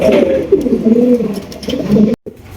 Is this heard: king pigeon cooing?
yes